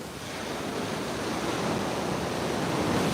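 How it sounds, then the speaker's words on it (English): Ocean waves roll in at Santa Cruz, a broad continuous rushing surf that swells slightly louder, with some wind noise on the microphone. "Let's watch these waves come in."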